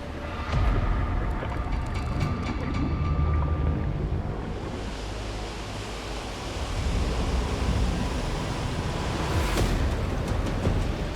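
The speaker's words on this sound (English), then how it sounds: "Interesting when these waves start coming in." Ocean waves roll in with the rising tide on an outdoor shoreline, a steady broadband wash with wind buffeting the microphone, swelling louder near the start and again toward the end.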